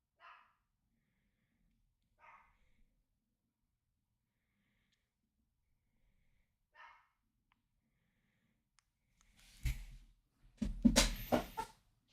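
A dog barks indoors, a few short distant yips early on followed by a louder burst of close barks and snorts near the end.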